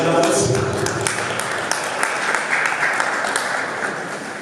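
Steady, dense applause from a crowd, continuous from start to finish with a slight early peak, loud and close.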